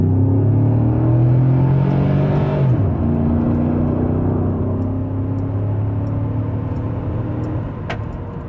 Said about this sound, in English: We're gonna get a quick 0 to 60 right here on the Tahoe